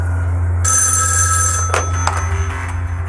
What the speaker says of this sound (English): Sheriff Crowder receives a phone call.